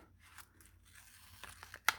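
Scissors cutting paper along a slightly curved line for a second-grade emotion mask craft, the blades sticky with duct tape residue; quiet, sparse snips and crinkles, with a few sharper cuts toward the end.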